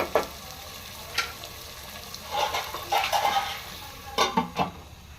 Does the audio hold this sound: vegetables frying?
yes